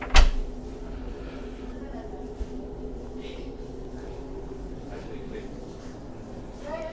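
A cabin door on a Tankoa T580 58-metre explorer superyacht slides across with a brief rolling thud at the start, then the cabin settles into quiet room tone.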